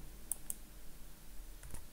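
A computer mouse clicking on a tab in a software interface: two quick, light clicks close together and a third a moment later, over a faint steady background hum.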